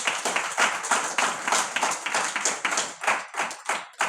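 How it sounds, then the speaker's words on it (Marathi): Audience applause welcoming a speaker at a Marathi lecture series session, a steady run of many hands clapping with uneven bursts, fairly close and loud, no voices over it. "त्यांचे आपण टाळ्या स्वागत करूया"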